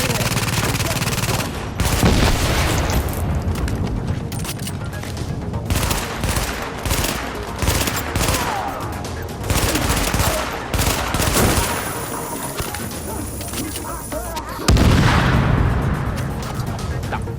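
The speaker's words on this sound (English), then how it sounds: "That explosion never gets old" Dense bursts of automatic gunfire and explosions from the shooter video game The Division roar almost continuously, loud and close. A heavy blast comes near the end.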